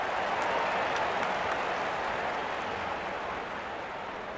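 Steady, dense applause rolls from a large stadium crowd in Real Cricket 24 during a Nepal vs UAE cricket match, holding at an even level throughout.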